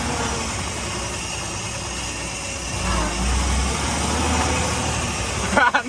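A 1927 Chrysler sedan engine runs steadily with a low rumbling idle, swelling louder midway and ending in a brief burst of knocks.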